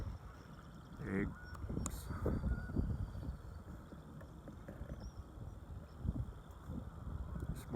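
American coots call faintly in the background at a pond in a metro park, scattered short honking and quacking notes over a low rumbling ambience.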